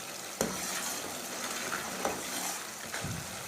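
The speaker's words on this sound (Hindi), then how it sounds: "बस चीनी को मिक्स कर लेना है।" Sugar being stirred into a thin syrup for makhandi halwa, a quiet bubbling hiss in the pot with a few distinct spoon clinks against the pan.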